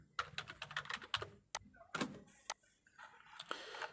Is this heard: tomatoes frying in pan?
no